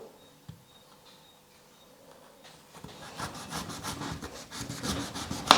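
Skin is peeled off an elephant foot yam in close, rough scraping strokes that start after a quiet opening and grow louder and more rapid toward the end.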